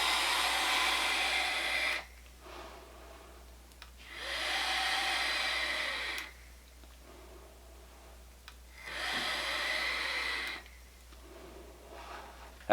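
A SMOK TFV12 vape tank fires at 110 watts with a T12 coil, producing three long airy hissing pulls of about two seconds each, separated by quieter pauses.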